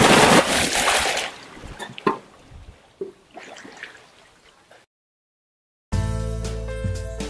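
A person plunges into water for a quick dip after an ice water challenge in Florida: a loud, close splash up front, then fading sloshing and trickling water before a stretch of silence.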